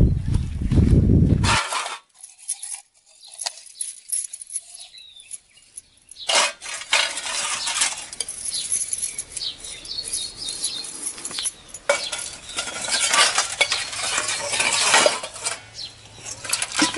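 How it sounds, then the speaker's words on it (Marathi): Someone washes dishes by hand, and pots and utensils clink and scrape in uneven bursts, close up. A quiet gap falls partway through, birds chirp faintly in the background, and no one speaks. "तू भांडी घासते होय?"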